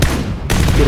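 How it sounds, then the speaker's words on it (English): A suppressed gunshot in a multiplayer shooter video game: a single muffled crack followed by a short noisy burst, loud and close, heard alone. "There's a suppressed gunfire towards my southeast."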